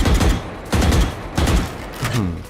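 Gunfire from a skinned weapon in the shooter VALORANT, four loud bursts of rapid shots spaced evenly apart at close range.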